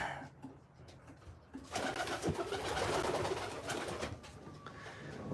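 Pigeons in a loft, cooing close by, starting quietly and then swelling into a fuller, continuous murmur of several birds calling together.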